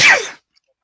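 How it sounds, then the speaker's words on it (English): A single sharp sneeze, close and loud, bursts out during a live fan-news talk stream and cuts off abruptly into near silence. "Did you sneeze up your brain a little bit?"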